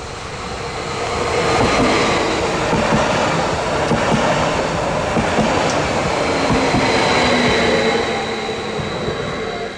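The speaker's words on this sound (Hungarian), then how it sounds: "érkezik Dunaharasztiból páros számú vonat Délegyháza felé" Passenger train on the old line arriving at Dunaharaszti alsó stop in steady rain, a continuous near rumble and rolling noise that swells and holds for several seconds with no talk.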